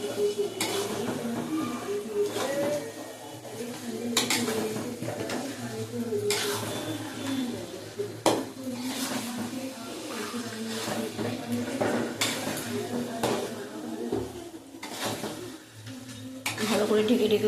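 Mutton is stirred and fried in a pan, with repeated scraping clanks of a utensil against the metal and a low sizzle underneath, while someone talks nearby.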